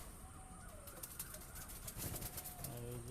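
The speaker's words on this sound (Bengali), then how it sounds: "খুব ভালো সেটিং জোড়া পায়রা" Pigeons in a breeding loft, including paired birds behind netting, give soft low cooing amid a steady background hiss, with a few deeper coos near the end.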